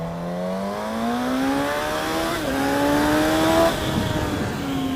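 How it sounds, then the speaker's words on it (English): Suzuki GSX-S1000 super naked motorcycle with its famous engine accelerating hard on a highway, engine pitch climbing steadily through rising gear sweeps with brief dips at shifts, loud and close with steady wind roar and no talk. "Highway acceleration."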